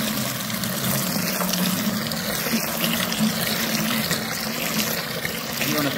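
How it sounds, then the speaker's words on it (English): Filtered water pours steadily into a bucket being filled near the top for mixing beneficial nematodes, a continuous close rushing and splashing that holds for the whole stretch with no talk. "You want to fill the bucket all the way up to the top"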